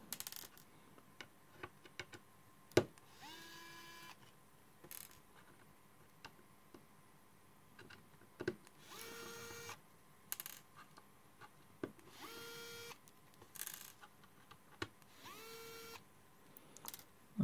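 A motion control screwdriver drives a series of screws into an OLED display gauge housing, giving short rising motor whirs separated by pauses, with faint ticks and clicks between them.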